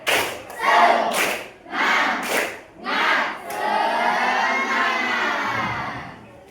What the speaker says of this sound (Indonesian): Tepuk 1, tepuk 2, tepuk 3, tepuk semangat.